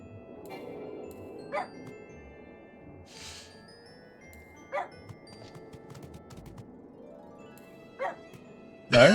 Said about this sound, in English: I was barking at you.